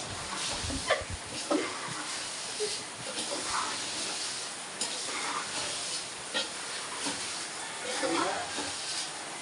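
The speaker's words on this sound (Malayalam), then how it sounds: "റസിയ നല്ല വറുക്കലാണ്." Frying on a gas stove while payasam, a sweet pudding, is made at an anganwadi. A soft, steady sizzle and hiss runs throughout, broken by occasional stirring knocks and faint background voices.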